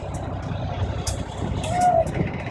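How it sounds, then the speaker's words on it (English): A truck brakes to a stop with its air service brake, engine rumbling low while a short hiss and squeal rise near the end, with someone talking over it. "The truck stopped with the service brake."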